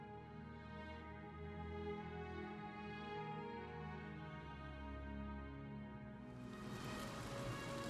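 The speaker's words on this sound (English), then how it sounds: "Beautifully rainy day." Rain falls steadily in the Imperial City's Elven Gardens in Oblivion Remastered, a continuous soft hiss under a layered ambient music bed, growing brighter and louder toward the end.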